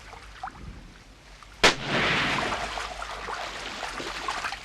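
A single sharp gunshot cracks out in an outdoor scene from a 1970 Slovenian film, a loud abrupt report followed by a rushing noise and faint ambience, with no voices heard.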